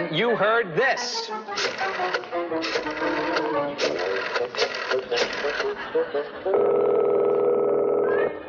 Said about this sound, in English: that's the sound of a phone call